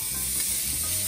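Bacon lardons crisp in a hot frying pan left from cooking chicken, a dense, steady sizzle with fine crackle throughout, close and with nobody speaking.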